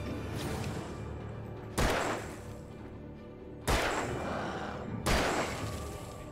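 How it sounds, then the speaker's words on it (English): Gunfire in the game Alan Wake, three loud, sharp blasts spaced about two seconds apart, each with a ringing decaying tail over a low background, close and prominent, with no talk. "Fucking rapid fire on him."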